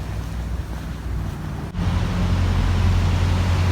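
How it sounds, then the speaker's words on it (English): Wind blowing across a river trail in Texas, a steady loud roar buffeting the microphone, swelling after a brief dip, with no one speaking. "It's still windy"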